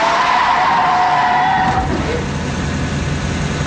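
A taxi car skids hard to a stop, a loud tire squeal and sliding rumble running about two seconds before fading into engine and road noise.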